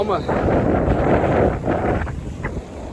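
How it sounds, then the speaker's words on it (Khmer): Big sea waves crash on a windy shore, a dense, continuous roar with heavy wind buffeting the microphone, loud and close throughout. "ទឹកកឡុកធំៗ"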